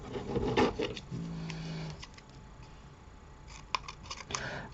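Paper card being cut by hand for a vintage-style handmade card, with a short burst of steady scissor or blade strokes close by, followed by quieter rubbing and handling sounds.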